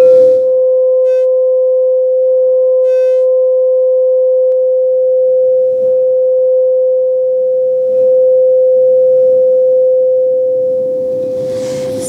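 A crystal singing bowl rings a single pure, sustained tone steadily and loudly for the whole stretch, with a faint shimmer and soft rustling underneath.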